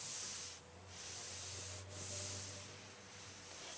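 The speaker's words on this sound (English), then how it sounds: "So I'm going to just do a nice press on each of my two seams." A steam iron is pressed over the two seams of a quilt block, giving a soft steady hiss and rubbing swish that dips briefly twice as the iron lifts and shifts, with no talking.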